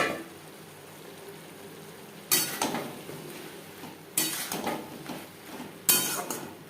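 Eggplant pieces go into a pan of onion and spices for a Bengali rui fish curry, each addition setting off a sudden loud sizzle and clatter that fades; three such bursts come a couple of seconds apart.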